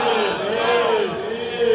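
A large gathering at a Milad un Nabi religious address answers the takbir call in unison with a loud, sustained collective chant that swells near the end.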